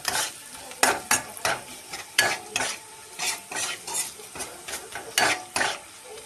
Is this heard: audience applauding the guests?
no